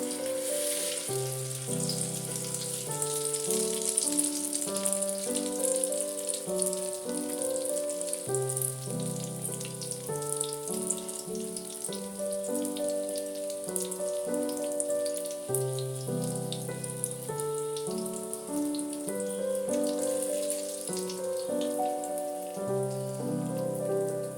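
Egg-dipped bread slices fry in a pan with a steady, close crackling sizzle that runs throughout, mixed under continuous melodic background music.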